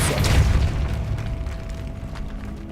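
A Depulso force-push spell cast in the video game Hogwarts Legacy: a loud booming burst at the start that rolls into a long, fading low rumble with faint crackling and no voices.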